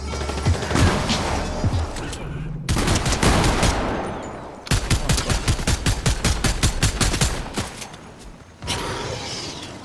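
Rapid video game gunfire in a solo battle royale match, loud bursts of automatic fire and fusillades in several long stretches, close and alone without talk.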